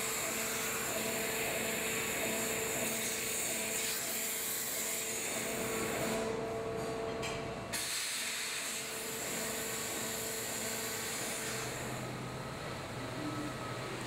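Waterjet cutting head slicing aluminium sheet with garnet abrasive, a steady loud roaring hiss that runs almost throughout, dipping briefly midway before resuming.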